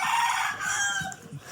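A rooster crows loudly and close at a village in Ban Mae Salap, Mae Hong Son, one sustained call with faint clucking underneath.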